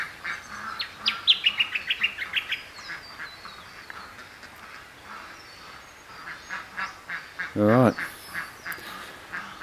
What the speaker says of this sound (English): they're waiting for one of the ducks that's left behind